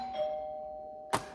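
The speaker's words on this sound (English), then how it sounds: "Someone's at the front doorbell" A front doorbell rings indoors, a steady sustained chime tone followed by a sharp brief click or knock near the end, no voices.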